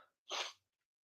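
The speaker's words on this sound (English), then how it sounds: "I'm going to sneeze here." A single short sneeze, sharp and breathy, bursting out alone against near silence.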